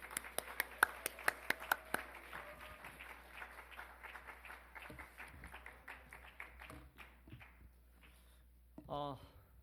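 A church congregation at a Sunday afternoon service claps to welcome a pastor: a few sharp claps up front, then fainter scattered clapping fading under talk.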